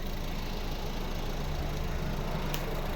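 A 2012 Volvo V50 D2 1.6 diesel idles close by with an even, continuous hum from the engine and exhaust.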